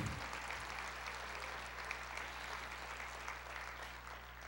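A church congregation applauds in a soft, continuous patter of clapping heard from a distance, with a low steady hum from the room beneath it.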